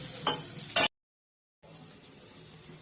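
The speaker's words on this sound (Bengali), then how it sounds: "এখানে হচ্ছে বেগুন ভাজা।" Brinjal slices fry in a pan with a soft sizzle and occasional stirring scrapes, fairly quiet, cut by a short silent gap before the frying resumes.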